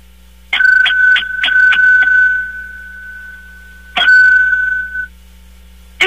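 A doorbell sound effect rings loud and close as a rapid burst of metallic dings that hold into a long ringing tone. A single strike follows after a pause and fades out.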